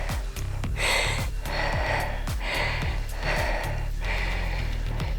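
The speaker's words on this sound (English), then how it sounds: "I am breathing hard." A person breathing hard after exercise, loud close rhythmic gasping inhales and exhales repeating about every second, with no talk.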